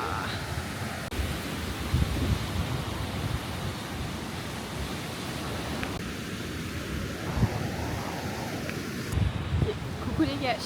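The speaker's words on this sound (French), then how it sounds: "mais là il y a plein de vent" Strong wind sweeps across a white sand beach in Quintana Roo, producing a constant loud, rough rush and microphone buffeting with a low surf-like roar beneath it and occasional stronger gusts.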